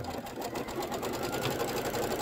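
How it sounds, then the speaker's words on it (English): An embroidery sewing machine stitching a table runner gives off a rapid, steady mechanical whir and needle chatter, close and continuous, with no talking. "So now it's sewing the very top."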